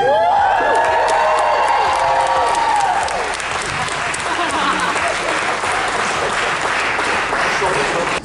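An audience at a fan convention breaks into loud, sustained applause that fills the room, with a voice speaking over the opening seconds.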